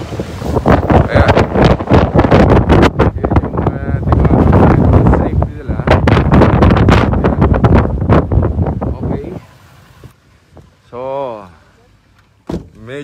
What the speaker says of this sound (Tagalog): Medyo maingay na ang hangin.